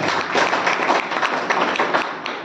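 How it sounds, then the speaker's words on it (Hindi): People at a Bharat Raksha Dal meeting applaud a team member, a loud, dense burst of many hands clapping that holds steady before easing off at the end. "इनके लिए एक जोरदार ताली"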